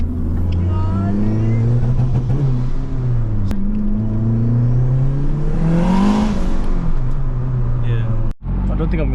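A 500bhp Honda Civic FN2 Type R pulls hard on Birmingham streets, its engine note climbing and falling through the gears in loud, close waves under continuous talking, with a brief clunk near the end.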